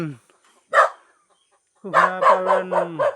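A dog barks once, then gives a quick run of several barks at a village house where chickens and goats are kept, with a voice speaking nearby.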